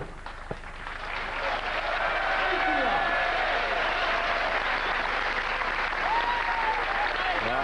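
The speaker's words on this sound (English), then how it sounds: "The crowd applaud a little sympathetically." Darts crowd at a world championship quarter-final giving a sustained round of sympathetic applause, steady and fairly loud throughout with some voices mixed into the clapping.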